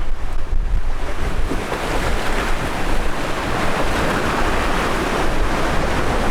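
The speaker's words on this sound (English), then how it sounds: "look at the size of the waves behind Dave" Ocean waves surge and wind roars steadily on a sailboat at sea under spinnaker, a dense, loud wash of water and wind noise buffeting the microphone throughout, with no voices.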